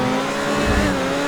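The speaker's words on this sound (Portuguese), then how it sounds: "Até andando aqui normal, acelerando normal." An Entity MT supercar accelerates in GTA 5 Online, a close, loud, steady engine drone with strong harmonic whine and a brief low rumble swelling midway.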